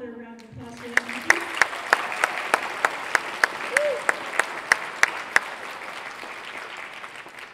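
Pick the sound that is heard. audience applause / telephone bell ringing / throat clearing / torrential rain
audience applause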